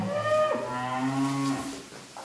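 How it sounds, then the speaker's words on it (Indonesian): A single cow moos in a cattle pen, one drawn-out bellow that rises and falls in pitch, close and clear with no talk. "Hari ini untuk stok dari kandang utama ada 60 ekor sapi bibit dan bakalan persiapan kurban"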